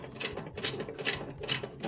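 Ratchet wrench clicking in quick bursts as it tightens the idler pulley bolt inside an LG dryer, about five short rhythmic runs of pawl clicks, close and fairly loud with no talk.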